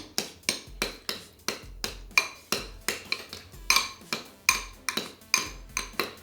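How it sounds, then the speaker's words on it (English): A spoon stirs vanilla into a dessert mixture in a bowl, making a steady run of sharp clinks and scrapes against the dish, about two or three per second, close and fairly loud with no talking. "So just a half a teaspoon of vanilla. Stir it up."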